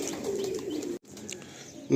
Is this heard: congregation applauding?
no